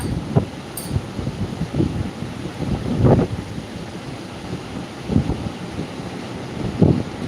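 Blustery wind roars against the microphone over the rumble of Arabian Sea waves, with heavier surges swelling every couple of seconds.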